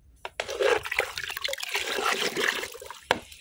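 A small amount of fertilizer is mixed into water for young chrysanthemum plants, giving close, continuous splashing and trickling liquid sounds with a few sharper sloshes and no talking.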